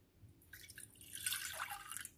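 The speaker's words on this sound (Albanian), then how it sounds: "E hedhim ujin" Water is poured into a cooking pot for a breakfast pudding with oats, a short trickling splash that starts after a brief pause and runs on fairly softly.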